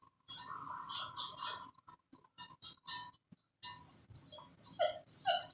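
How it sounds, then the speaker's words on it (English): A stressed dog whimpers indoors in a run of soft, high whines that grow into louder yips and cries toward the end, close by with no talking. "The dog is obviously stressed out and can't seem to stay."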